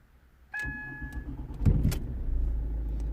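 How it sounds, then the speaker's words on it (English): A Ford Mondeo with an engine malfunction is started: a short electric chime, then the starter cranks and the engine catches and settles into a steady idle, close by, with no talk. "Let me start the engine."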